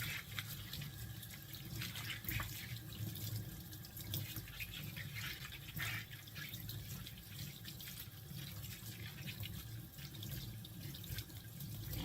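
Tap water runs steadily into a kitchen sink as corn is rinsed, a soft continuous splashing hiss with faint drips, heard quietly with no talking.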